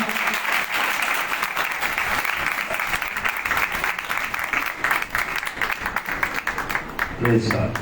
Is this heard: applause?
yes